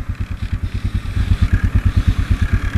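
A Royal Enfield Himalayan motorcycle engine idles up close, loud, with a steady rapid thumping pulse.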